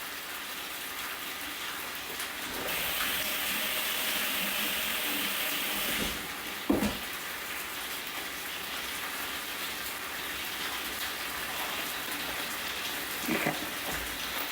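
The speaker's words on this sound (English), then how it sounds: "Hang on, I'll have to wash my hands." Running tap water splashes over hands at a kitchen sink, a steady close hiss lasting most of the stretch, broken by a couple of brief knocks and clatters midway and near the end.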